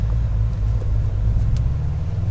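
A modified Corvette C6 Z06 engine gives a loud, steady low rumble from inside the car as it accelerates hard from about 30 mph, with road noise blended under the engine drone.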